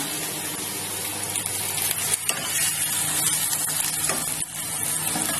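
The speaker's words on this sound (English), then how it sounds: "Just give this a little stir around." Food being stirred in a hot pan in a home kitchen, a steady loud sizzle with scraping and clattering from the utensil, one sharp knock partway through.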